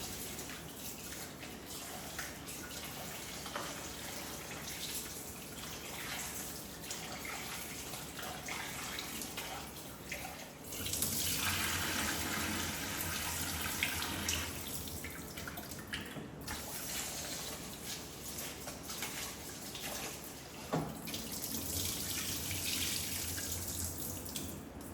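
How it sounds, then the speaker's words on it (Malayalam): Rice being washed under a running kitchen tap in the early morning, a steady hiss of flowing water with splashing and shifting surges, continuous and fairly close. "ഇനിയിപ്പോൾ ആ ഒരു ടൈമിൽ അരി കഴുകിയെടുക്കലാണ്."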